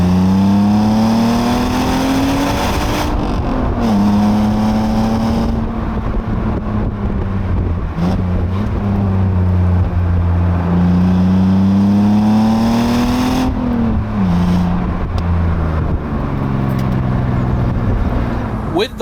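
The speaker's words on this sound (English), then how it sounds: "let me put my foot down so you can listen to that engine." BMW Z3 roadster engine pulling hard along a narrow road, revs climbing in two long sweeps with a gear change between, loud and close with wind rush over the microphone.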